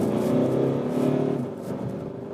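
A 2016 Skoda Octavia vRS Combi estate with the 184 hp TDI diesel and DSG gearbox accelerating under throttle, a droning engine note that rises in pitch, eases at a gearchange, then climbs again, heard from inside the car.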